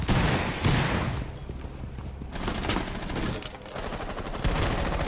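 Rapid gunfire bursts from weapons in the tactical shooter Rainbow Six Siege, dense and sustained with loud repeated shots over a busy game mix.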